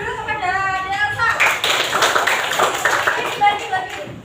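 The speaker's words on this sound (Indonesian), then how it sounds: "Oke, beri tepuk tangan dulu kepada Elsa." Classroom applause for a student, a short burst of children clapping that starts after a few spoken words and continues as a busy patter mixed with voices.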